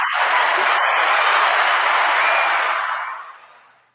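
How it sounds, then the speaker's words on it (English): An audience breaks into a round of applause, a dense, even burst of clapping that holds strong for a few seconds and then fades out. "Can we get the rounds of applause for that?"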